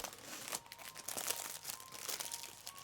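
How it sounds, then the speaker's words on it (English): Faint crinkling and rustling from handling a pan of chocolate, soft irregular crackles running throughout, close and quiet. "I'm sorry for the rustling. It's a pan of chocolate."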